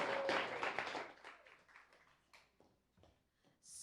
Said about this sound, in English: Keep that applause going for the lovely Tori Anna.